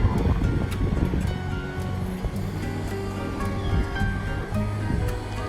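Ocean surf washing steadily below an oceanfront resort balcony in Riu Vallarta, Mexico, a continuous broad wash with wind buffeting the microphone and soft background murmur throughout.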